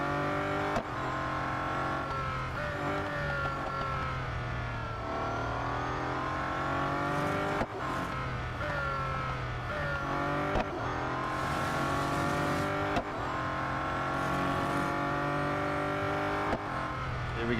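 Race cars in Real Racing 3, a mobile racing game, roar through laps at close range. Engine revs rise and fall continuously, with gear shifts and brief drops between bursts and occasional tire noise. No one speaks.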